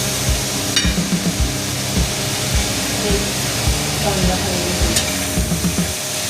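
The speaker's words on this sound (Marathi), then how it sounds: "तेलासोबत चांगला हलवून घ्यायचं" Green chilli kharda with garlic and coriander being stirred in hot oil in a pan, a steady scraping rhythm of repeated spoon strokes over a continuous low sizzle, close and fairly loud.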